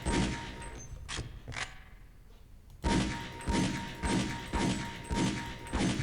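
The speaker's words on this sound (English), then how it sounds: "So just shoot the inner circle a lot." Gunfire in the Half-Life: Opposing Force video game as shots hit training targets on a range: a few separate shots, a pause, then a steady run of loud rhythmic blasts.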